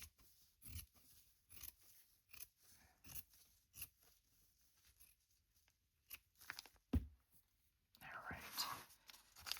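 Scissors snip through paper while a commissioned cat-and-dog themed journal is made, giving quiet, irregular cuts close by with a soft spoken voice in the background.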